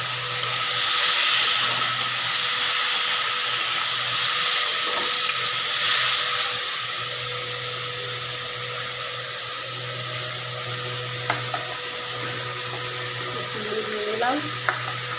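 Cumin powder and tomato frying in a pan, a busy sizzle and hiss that is loudest early and settles into quieter frying, with a steady background hum and a few small clinks.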